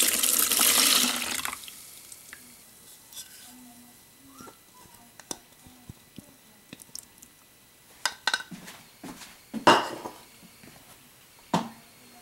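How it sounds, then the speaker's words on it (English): A foamy yeast mixture poured into a bowl for sweet bread rolls, a brief gush of liquid at the start, then quieter drips, clinks and small handling noises nearby. "Let's go ahead and pour in the yeast."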